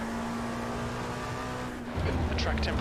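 A slower-class race car in a sim race at Interlagos passes by, its engine a steady loud drone with a sharp shift in pitch near the end, and there is no talk over it.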